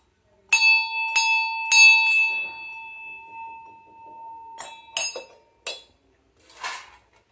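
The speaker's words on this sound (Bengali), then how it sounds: "এটা বড় ঘন্টা মন্দিরের জন্য।" Large brass temple bells struck several times in a row, each ring clear and long with a sustained metallic tone that slowly fades, then shorter, duller strikes follow, close up with no voices over them.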